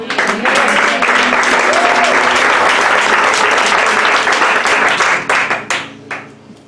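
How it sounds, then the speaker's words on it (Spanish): A church congregation bursts into loud, dense applause that holds steady for several seconds, with voices mixed in, then thins into scattered claps and fades. "por eso denme un aplauso"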